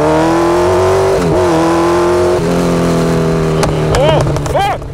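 A 2018 Kawasaki Z900 motorcycle engine revs loud and close, a steady high growl that climbs and falls several times before two quick sharp throttle blips at the end.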